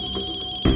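A mobile phone rings with a steady electronic tone, repeating evenly at a moderate level for most of the moment, then a louder broadband burst cuts in near the end, in a tense crime-drama scene.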